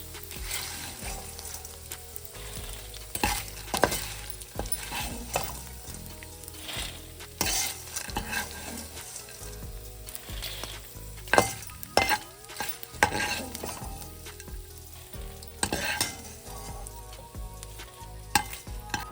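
Edible gum (gond) roasting in a pan, with a continuous crackling sizzle and frequent sharp scraping and tapping as it is stirred, steady and close, with no voices.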